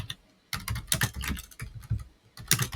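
Keys clatter in quick bursts as someone types on a computer keyboard, close and fairly crisp, with short pauses between runs of strokes and no voices.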